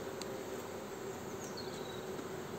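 Honeybees fan and call at a hive in a colony low on stored reserves, making a steady, dense, continuous buzzing hum that stays even in level throughout, with no voices.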